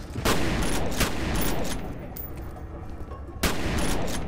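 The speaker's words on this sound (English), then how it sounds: "That gun shoots nails, not hammers." Video game gunfire from a nail-shooting spike gun, sharp bursts of shots in quick clusters, loud and close, fading into lighter scattered impacts before one more strong blast.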